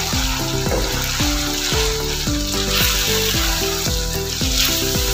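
Chicken karahi frying in a pan over a medium flame, a loud, steady sizzle filling the whole stretch with no voices over it.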